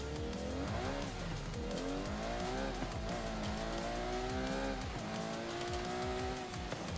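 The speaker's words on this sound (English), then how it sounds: "Did that thing just chirp third gear?" A 2019 Ferrari Monza SP2 on drag tires in Forza Horizon 5 accelerates hard, its engine note climbing through gear shifts with brief tire chirps and squeal, loud and continuous.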